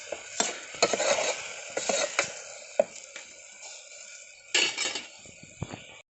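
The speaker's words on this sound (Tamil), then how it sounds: "இது நல்லா மிக்ஸ் பண்ணி பச்சை வாசனை போகிற வரைக்கும் நல்லா வதக்கலாம்" Rasam ingredients are sautéed and stirred in a pan, with a spoon scraping and clinking against the metal in irregular bursts over a faint sizzling background.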